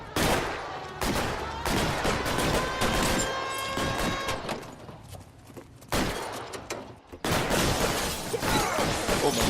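Rapid, loud bursts of gunfire in the video game L.A. Noire, with repeated sharp shots in quick volleys, a brief lull and then more shooting, without any voices over it.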